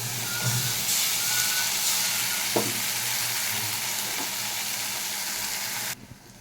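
Ground tomato paste sizzles steadily in hot oil in a pan, a close, continuous frying hiss with a couple of brief stirring clinks, cutting off abruptly near the end.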